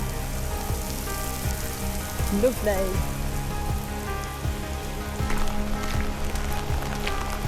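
Heavy rain pours down steadily beside a road near a loch, a dense broadband hiss of drops drumming on surfaces that holds for the whole stretch, with a brief spoken word and faint background chatter over it.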